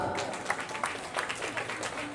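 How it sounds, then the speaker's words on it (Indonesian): Audience applause at a crowded anniversary celebration for a regional market company, faint and fairly steady clapping lasting a couple of seconds with a few louder claps standing out. "Berikan tepuk tangan."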